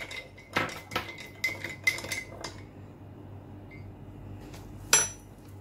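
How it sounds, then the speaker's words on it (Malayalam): A spoon stirs sugar into milk in a cup, several quick metallic clinks against the rim at the start, a quiet pause, then one more sharp clink, close and alone. "പഞ്ചസാര ഒന്ന് നന്നായി നമുക്ക് ഇളക്കി കൊടുക്കാം"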